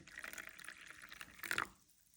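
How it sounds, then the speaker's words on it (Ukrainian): Hot water poured into a container holding tarnished billon coins for cleaning, a soft liquid splashing and trickling that swells briefly near the end, then stops. "Я зараз додам ще трошки гарячої води для швидкості"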